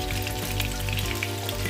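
Salmon pieces fry in a pan with a steady, close sizzle and crackling spatter, continuous and lively with no talking over it.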